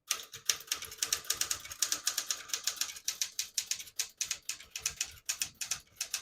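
Rapid, steady keystrokes on a 1969 Smith-Corona Super Sterling portable typewriter printing in red ribbon, crisp close-up clacks in an even rhythm with no talking.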